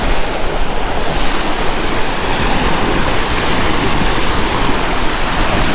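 Ocean surf breaking on a windy beach, a steady, loud wash of waves with wind buffeting the microphone throughout, no voices.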